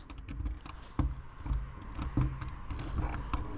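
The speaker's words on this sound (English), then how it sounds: "There are 2 sets of keys." Two sets of keys jangle at an RV storage cabinet on a 2017 Jayco Seneca, with soft metallic clinks and scattered sharper knocks, fairly quiet and close, and no voices.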